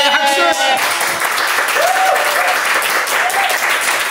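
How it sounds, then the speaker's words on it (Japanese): A small audience at a live public recording of a Japanese comedy channel claps together in a dense, steady patter of applause, fairly loud and close, with a voice speaking briefly near the start. "拍手"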